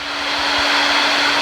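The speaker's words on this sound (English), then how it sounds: "I use a hair dryer to get it pretty hot." A hair dryer runs continuously as it heats a snowboard base before waxing. Its loud, close, even blowing roar holds steady throughout, with no voices.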